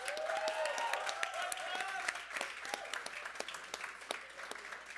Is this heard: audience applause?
yes